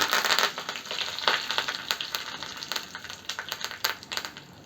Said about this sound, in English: Now that the oil is heated up, we will add black gram, mustard, cumin,